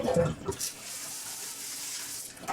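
A kitchen tap fitted with a water filter runs steadily while salad is washed under it, a continuous close hiss of flowing water, with a brief voice and splashing at the start.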